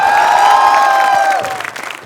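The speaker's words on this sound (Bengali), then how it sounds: "জোরে করে তালি দাও" Studio audience applauding show guests Fuad, Kona and Rafa, a loud burst of clapping and light cheering that holds strong for over a second, then thins out and fades into scattered claps.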